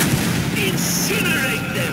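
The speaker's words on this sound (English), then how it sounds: "Fire the flamethrower!" A flamethrower roars in a World War II battle video game, a loud, dense, continuous blast of rushing fire that fills the whole moment without a break.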